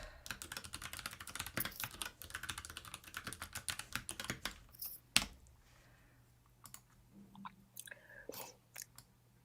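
Computer keyboard being typed on, rapid bursts of close key clicks followed by a few sparse, sharper taps and pauses, quiet and alone.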